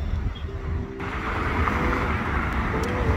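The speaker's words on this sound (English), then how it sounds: "I didn't factor in the amount of wind that might be out here tonight or today or whatever." Steady wind buffeting a handheld camera microphone at a Baltimore harbor on Independence Day, a low rumbling roar that grows heavier partway through, with faint background activity beneath.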